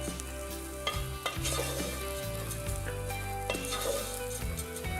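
Fideo noodles and onion fry in a pan, a steady sizzle with occasional scraping stirs, heard alone with no talk.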